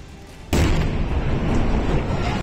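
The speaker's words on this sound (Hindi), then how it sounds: "इस दौरान उसमें धमाके भी होते सुनाई दिए, जिसने आसपास के लोगों को खौफ से भर दिया।" A loud booming blast erupts from a burning factory, a sudden explosion that kicks in after a quieter background and stays as a dense, rumbling roar to the end.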